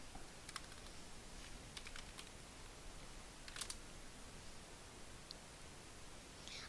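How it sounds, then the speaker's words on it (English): Computer keyboard typing practice, heard as faint, scattered clicks and short bursts of keystrokes over a steady hiss of background noise, with no one speaking. "I'm just gonna practice my typing."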